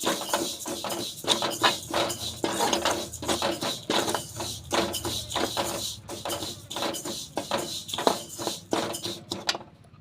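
Sesame seeds dry-roasting in a kadai with no added oil, giving a steady run of close, crisp crackles and scraping ticks that carries on for about ten seconds.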